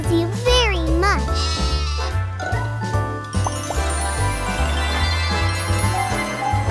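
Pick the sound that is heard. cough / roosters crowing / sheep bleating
sheep bleating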